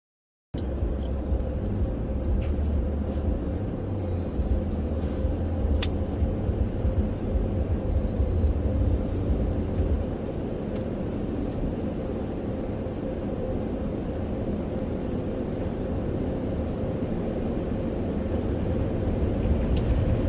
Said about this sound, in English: I'm in the car wash.